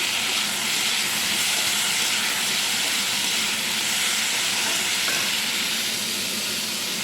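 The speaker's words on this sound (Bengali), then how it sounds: "ঝিঙেটা দিয়ে একটু ভালো করে ভেজে নিই" Ridge gourd frying in hot oil, giving a loud, dense, continuous hiss and sizzle that holds steady throughout, close up, with no talking.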